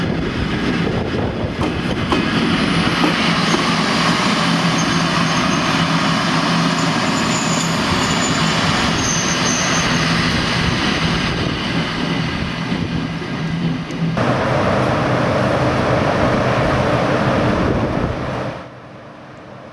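A 3000 V DC electric locomotive shunting a passenger train near Rijeka, Croatia: loud, continuous rolling rumble with a steady motor drone and rail noise throughout, shifting tone near the end before cutting off abruptly.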